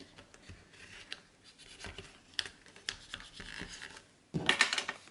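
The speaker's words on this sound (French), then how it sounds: "Avec votre plieur, vous pouvez passer à l'intérieur pour bien coller le double face." A bone folder rubs and scrapes across paper over double-sided tape in short, close strokes that grow into a louder, denser burst of rubbing near the end.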